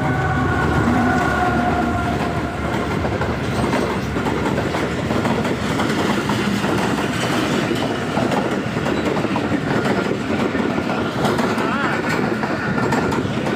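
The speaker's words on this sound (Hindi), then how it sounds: "अभी स्टेशन पर ट्रेन भी आ गई है" A train arriving at a station, a loud continuous rumble with rhythmic clattering of wheels over rail joints, steady and close throughout, with voices and station bustle mixed in.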